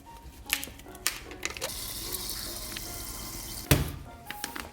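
Italian sparkling water is poured into a glass, giving a soft splashing fill with fizzy hiss and a few clinks and bumps, fairly quiet and close, without talk.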